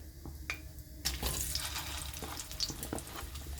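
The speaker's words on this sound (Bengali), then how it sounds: "এইবার আলু আর কুমড়োগুলো" Potato and pumpkin pieces drop into hot oil in a kadai over cumin and asafoetida tempering, setting off a loud, steady sizzle with scattered clatter and stirring; no voices.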